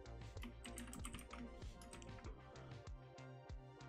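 Rapid, close typing on a computer keyboard, a quick run of light clicky keystrokes with brief pauses, quiet and alone.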